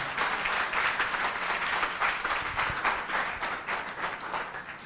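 A church congregation bursts into sustained applause to praise the Lord during a French-language sermon. The clapping is dense, steady and fairly loud throughout, with no one speaking.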